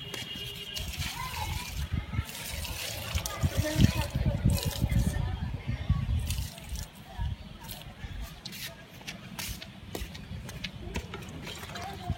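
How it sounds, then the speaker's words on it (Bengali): Water from a rooftop tank pours steadily into a bucket, a close, continuous splashing trickle that runs throughout while people talk nearby and children's voices carry in the background. "এই ছাদের উপরে জলটা আসছে কোথা থেকে বালতিতে? এই ট্যাঙ্ক থেকে।"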